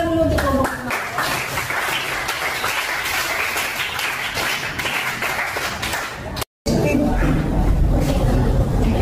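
Applause from a classroom of students for a presenting student group, steady broadband clapping through most of the stretch with a brief dropout near the end, fairly close and loud.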